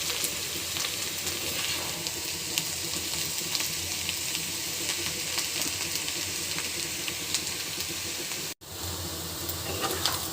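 Potatoes for a soft aloo bhaji fry in a pan with a continuous, fairly loud sizzle and hiss, broken only by a short cut near the end, with no voices over it.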